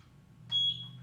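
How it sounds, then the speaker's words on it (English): A Eufycam S330 wireless solar security camera gives a single short, clear sync beep at close range over a low background hum. "Press the sync button until you hear the beep."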